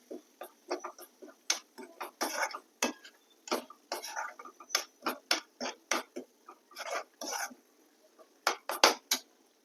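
A spoon stirs bhindi (okra) masala with spices and a little water in a pan, giving rapid, light clicking scrapes against the metal in an uneven, steady rhythm, close and fairly quiet.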